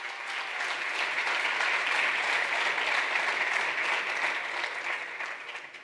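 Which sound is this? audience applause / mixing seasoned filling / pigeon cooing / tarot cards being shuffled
audience applause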